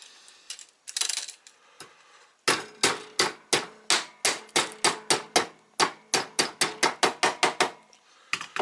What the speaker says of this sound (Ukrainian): І знову молоточком.